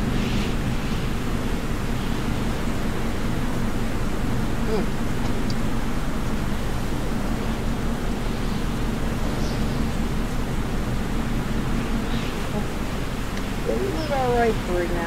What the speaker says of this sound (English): Down the water, these waves are big.